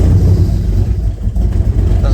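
A 1997 Eclipse GSX engine fitted with a speed-density setup and running rich on E85 idles close by with a heavy, uneven low rumble, and a voice speaks over it.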